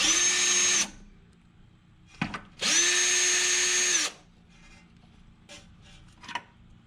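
A power tool loosens 10mm bolts on a Lexus strut in two loud, close whirring bursts, each spinning up to a steady high whine before stopping, with clanks and quiet pauses between.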